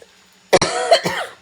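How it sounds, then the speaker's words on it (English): A single sharp cough, followed by a throaty rasp and a second softer cough, close and loud against near silence. "I'm pretty sure I'm going to have this cough forever."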